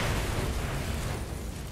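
An explosion goes off in the video game Far Cry 6 on a tobacco farm mission, a dense, low rumbling blast that stays steady and moderately loud for its short length.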